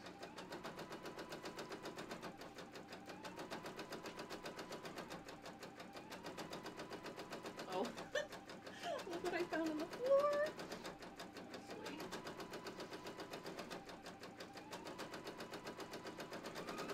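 An embroidery machine stitching out a buttonhole design runs with a steady, rapid mechanical chatter throughout, briefly joined midway by a few louder clunks and a short high squeak before the even rhythm resumes.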